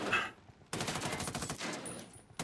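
Automatic rifle fire in Ghost Recon Wildlands, a rapid rattling burst that starts abruptly after a brief quiet and keeps firing at close range, followed by a final sharp shot.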